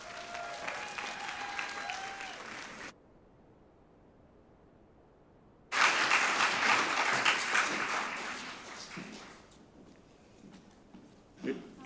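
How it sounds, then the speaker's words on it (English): An audience at a social worker of the year awards ceremony applauds loudly, breaks off into near silence, then bursts into dense clapping again that gradually tapers down, with a stray clap at the end. "let's give a big round of applause to Liz Wood and Steve Crocker"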